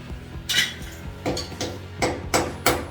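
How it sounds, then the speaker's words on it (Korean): A hammer knocks old washbasin support anchors side to side out of a tiled bathroom wall, giving six sharp metallic clanks spaced irregularly, close and loud with a faint ringing after each hit. "기존 세면대를 받쳐주던 앙카를 사정없이 망치를 이용해서 좌우로 쳐주면서 벽에서 분리해 줍니다"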